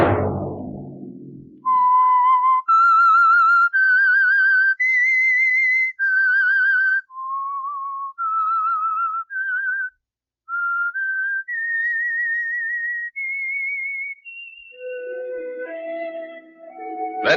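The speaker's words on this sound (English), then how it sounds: "Let that whistle be your signal for the Signal Oil program, The Whistler, each Monday at 9." The whistled theme of the 1946 Signal Oil radio mystery program The Whistler: a clear, solo human whistle carrying an eerie, rising and falling melody of sustained notes and short phrases, loud and close, ending in a few lower tones.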